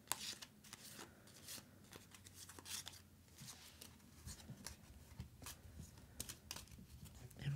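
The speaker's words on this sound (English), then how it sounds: "So I'm just going to give that a quick shuffle." A deck of Tiny Epic Defenders enemy cards gets a quick shuffle, soft close-up riffling and flicking bursts repeating in an irregular rhythm, faint and quiet.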